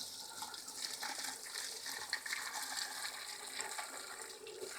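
A wash-down hose rinses out the bends on a tool post grinder, a steady close spray of gushing, splashing water that runs continuously for several seconds with no talking.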